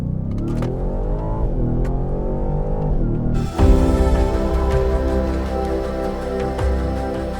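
A Ford Raptor R truck engine runs at full throttle in Baja mode off-road, a loud, close, sustained roar with a sharp jump in intensity partway through as the revs climb.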